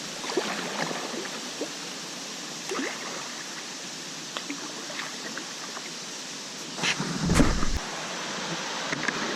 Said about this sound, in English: Maybe we'll get a shot of that waterfall.